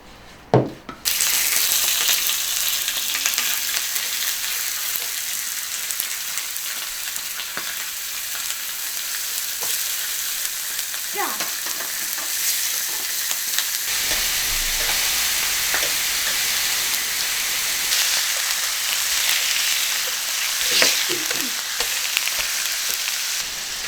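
Oil-brushed squid pan-frying at home on high heat to cook off its moisture, giving a loud, steady sizzle throughout with a few faint clinks and no talking.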